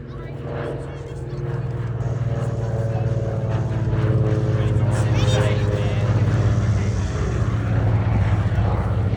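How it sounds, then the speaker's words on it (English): A Lockheed 12A Electra, powered by two 450 horsepower Pratt & Whitney radial engines, flies past at an air show with a loud, steady propeller drone that swells through the pass while a commentator talks over it. "this aircraft powered by two 450 horsepower Pratt & Whitney radial engines"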